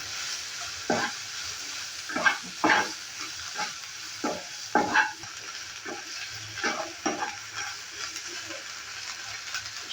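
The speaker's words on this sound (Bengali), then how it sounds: "প্রথমে আমি সোয়াবিনটাকে ভালো করে ভেজে নেব।" Soybean chunks frying in a pan give a soft continuous sizzle, broken by about a dozen brisk spatula scrapes and stirs, close up with no voices.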